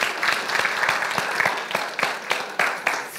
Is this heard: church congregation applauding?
yes